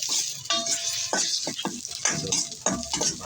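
Onion, ginger and garlic sauté in hot oil for Filipino chicken tinola, giving a soft steady sizzle broken by several sharp clinks and scrapes of a utensil stirring the pan.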